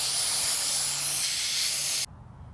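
Aerosol cleaner is sprayed onto the carburetor of a weed trimmer in one continuous close, loud hissing burst of about two seconds that stops abruptly, leaving quiet room noise.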